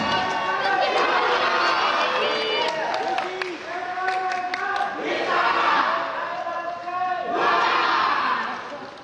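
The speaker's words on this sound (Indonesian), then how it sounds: "Mari kita berikan tepuk tangan yang paling meriah." Crowd at a homecoming welcome for Indonesia's Paris Olympic athletes, including a 73 kg weightlifting gold medalist, cheers and claps in loud continuous waves that swell and fade repeatedly, with shouting voices mixed in throughout.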